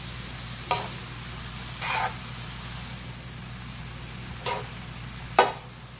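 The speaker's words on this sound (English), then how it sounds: "So we make sure we get it all covered in that little tiny bit of bacon grease." Food stirring in a thin film of bacon grease in a home kitchen, a low steady sizzle under faint hiss, broken by four brief scraping stirs spaced a second or more apart; no talking.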